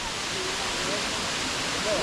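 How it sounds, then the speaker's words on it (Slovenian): The 56-metre Bliha waterfall roars as a steady, dense wash of falling water, constant and unbroken throughout. "Super slap, visok je 56 metrov."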